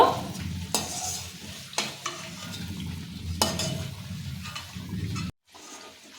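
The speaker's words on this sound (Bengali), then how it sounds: "ভালো করে তেল ঝরিয়ে লাল করে ভেজে তুলে নিতে হবে" Crisp flattened-rice pakoras sputter in deep oil while a utensil scrapes and lifts them out in several distinct strokes, before everything cuts to silence.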